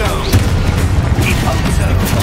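Combat spell blasts and booms from the Hogwarts Legacy video game, loud and dense, with several sharp impacts layered over continuous game noise and a voice calling out over the action.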